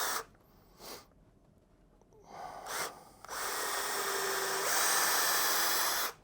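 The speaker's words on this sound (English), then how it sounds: "we're going to take our drill with a 1/8 inch bit, and we're going to drill a pilot hole right in the middle of that" A power drill fitted with a 1/8 inch bit bores a pilot hole into a wooden post, starting with short bursts and then running as a sustained, loud whirring grind for the last few seconds.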